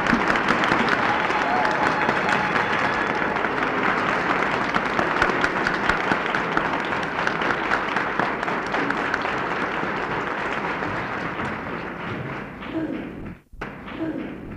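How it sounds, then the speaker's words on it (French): A standing audience at a 1962 women's federation meeting in Bamako applauds warmly after a speech, dense, sustained clapping filling the room at full strength, then thinning out near the end. "Toute l'assistance debout a chaleureusement applaudi cet exposé magistral de Madame Eugénie Coton"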